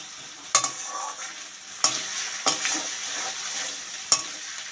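Onions frying in oil in a pan for a Bengali mutton (goat meat) dish, with a steady sizzle broken by a few sharp scrapes of a spoon stirring, close and alone with no talk.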